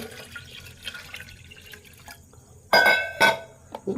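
Two cups of water poured over rice in a cooking pot for ghee rice, heard as a sudden splashing pour with a second short gush after it, fairly close against a quiet kitchen.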